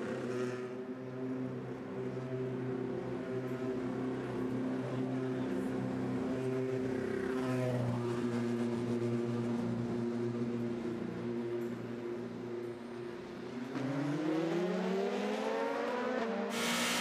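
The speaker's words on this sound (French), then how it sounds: "Avec Laurus, voilà qui repart" Race car at the 24 Hours of Le Mans pulling away, its engine a steady loud harmonic drone that climbs in pitch near the end as it accelerates, with broadcast commentary faintly underneath.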